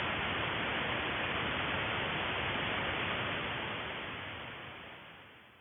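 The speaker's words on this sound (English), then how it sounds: "This is actually the sound of the galaxy." Radio receiver tuned to the galaxy, giving a loud, dense wash of steady static hiss that holds evenly and then gradually fades toward the end, with no voices.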